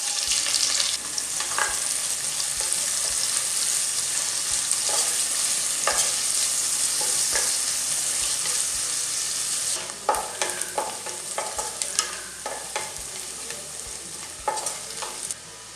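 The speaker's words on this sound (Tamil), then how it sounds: "2 மீடியம் சைஸ் வெங்காயத்தை இந்த மாதிரி நீள்வாக்கில் நறுக்கி வச்சுருக்கேன். அதையும் சேர்த்து நல்லா வதக்கிடலாம்." Long-sliced medium onions sautéing in a pan for quail dum biryani, a steady bright sizzle with intermittent stirring scrapes and clinks, close and continuous.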